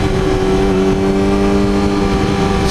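A Yamaha R6 motorcycle engine revs high and steady while riding at low speed, a loud continuous whine with strong harmonics, close to the listener and without speech.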